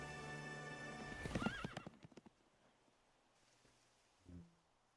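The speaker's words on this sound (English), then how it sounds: "He's a big horse." In Kingdom Hearts 3, a horse gives a loud, wavering whinny over game music, followed by a quick run of clip-clopping hoof beats that fade out, then one soft thump near the end.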